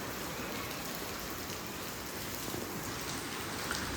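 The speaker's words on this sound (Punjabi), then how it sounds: "ਬਰਸਾਤ ਬਹੁਤ ਆਈ ਬਈ" Heavy rain pours down steadily during a record-breaking monsoon downpour in a Punjab village, a dense, even hiss of drops on surfaces close by with no letup and no voices.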